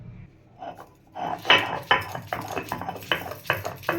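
Ginger, cumin and dried red chillies are ground into a paste by hand on a stone, giving sharp irregular scraping and knocking strokes that come close and loud, with no talking.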